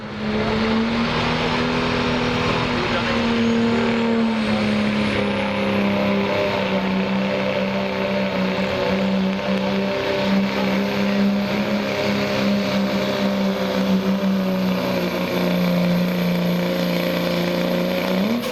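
A loud 2.6 turbo engine roars continuously at a truck and tractor pull, its steady drone rising in pitch as the truck pulls hard down the track.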